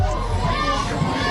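A partisan McNeese State softball stadium crowd roars and cheers after a strikeout, with children's shouts mixed into a dense, continuous wall of noise throughout.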